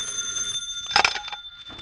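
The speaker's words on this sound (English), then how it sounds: "He was almost asleep when the phone rang." A telephone bell ringing as a sound effect in a 1949 radio drama, a shrill trilling ring with a brief louder burst in the middle, close and fairly prominent.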